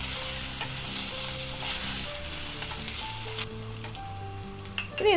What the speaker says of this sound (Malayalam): ഇതുപോലെ ഒന്ന് ഇളക്കി ഒന്ന് വഴറ്റിയെടുക്കുക.